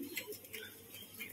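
Soft, brief cooing from a female pigeon with a red border on its plumage, a couple of low murmuring coos in quiet surroundings.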